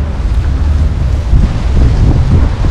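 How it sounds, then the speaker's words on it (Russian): Strong wind buffeting the microphone on an overcast coastal day, a loud, continuous low rumble that rises and falls in gusts, with no voices. "очень сильный ветер"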